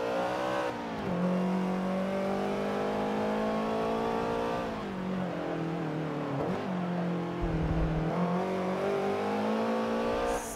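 A race car engine in Forza Motorsport 7 drones loudly and continuously, its pitch climbing through gear changes with brief dips between shifts, close and steady from start to finish.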